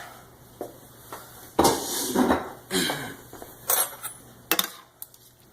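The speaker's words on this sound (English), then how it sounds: "Throw them right into the sauce. Take our shrimp. Throw those right on top." Shrimp tossed into a pan of vodka pasta sauce, a few sharp clanks and wet slaps against the metal pan, separated by quieter moments.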